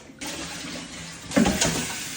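Water runs from a tap to rinse a whole fish, including the head, in a kitchen. A steady hiss of flow is joined by a louder splash and gush partway through.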